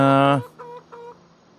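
A chicken in Farming Simulator 25 clucks loudly and clearly for a moment, the sound cutting off abruptly, then two fainter short clucks or a brief murmur follow in a quiet farm setting.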